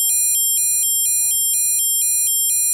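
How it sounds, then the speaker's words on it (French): A shrill electronic siren from the sound module of a 1986 LEGO 6450 Police Mobile Truck, beeping in a fast, even pulsing pattern, repeating steadily and loudly with no voices. "un élément sonore qui pourra émettre deux types de sirènes différents"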